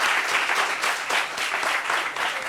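A room full of people applauds, dense steady clapping that stays loud and close throughout with no voices.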